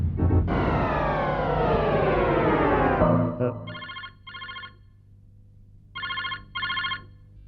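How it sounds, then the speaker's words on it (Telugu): In a Telugu TV serial scene, a falling electronic tone gives way to a telephone ringing in paired bursts of bright chirps, separated by silence. "ఏ గోపాల్ ఎవరికి ఎవరికి ఫోన్ చేస్తున్నావు నువ్వు"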